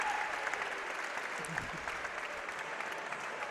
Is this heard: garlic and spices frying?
no